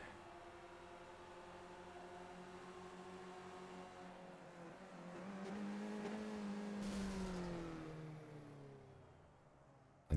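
A Skip Barber race car engine in the iRacing sim drones steadily, then its pitch climbs and swells louder as it revs, before a brief shift-like dip and a sharp burst at the very end, with no talk.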